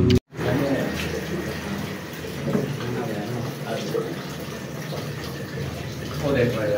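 Water running from a tap into a container, a steady broadband rush that continues for several seconds with a slight swell near the end, loud and close, with no talk over it.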